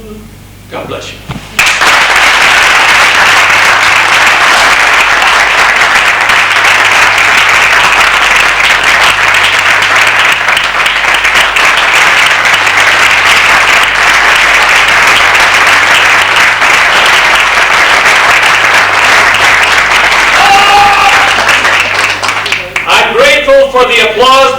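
After a brief quiet start, a large audience bursts into loud, sustained applause after a stage performance, a thick wash of clapping that holds steady for over twenty seconds before a voice begins speaking at the end.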